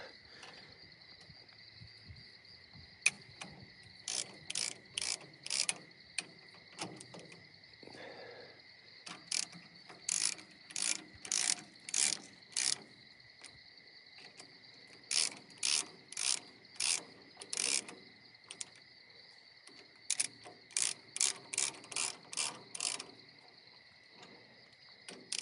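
Bolts on the steering of a 60-year-old Clark Michigan 55A loader are tightened with a ratchet, giving bursts of quick metallic clicks in repeated runs with short pauses between them, fairly close but quiet.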